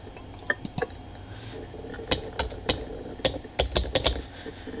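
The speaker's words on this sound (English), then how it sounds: "Oh, I hate spamming the fucking keyboard." Quick bursts of keystrokes on a computer keyboard while playing the game Emily is Away, close and crisp, coming in irregular clusters of rapid taps with short pauses between.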